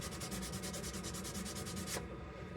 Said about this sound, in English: I like to take a sanding paper and just go